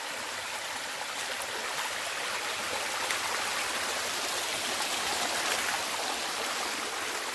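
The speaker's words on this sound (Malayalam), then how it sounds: "അപ്പം ഇത് കുളത്തു നിന്നാണ് വരുന്നത് വെള്ളം" Water running in from a village pond, a steady broadband rushing flow like a small stream, even and moderately distant throughout with no voices.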